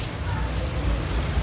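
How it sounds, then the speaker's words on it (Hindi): Heavy rain pours down at night, a dense, loud, continuous hiss of drops hitting surfaces close by, with no other sounds standing out. "बारिश चालू हो चुकी है इतनी तेज"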